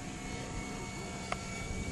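Kyosho T33 RC ducted-fan model jet flying at full throttle, a steady, loud rushing roar with a high whine that holds level throughout.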